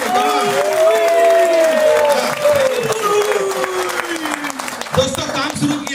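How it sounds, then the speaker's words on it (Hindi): Audience applause at a motivational business talk in India, a loud wash of clapping and some cheering running throughout, with a voice carrying over it. "एक बार जोरदार तालियां शाली साहब के लिए"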